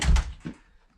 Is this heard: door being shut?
yes